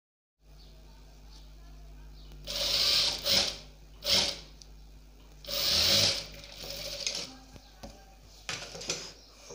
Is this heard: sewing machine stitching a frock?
yes